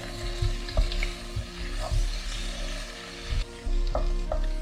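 A Surinamese vegan chickpea ghoegrie (channa) stew cooks in a pot, sizzling and bubbling steadily up close, with periodic clanks and scrapes as it is stirred.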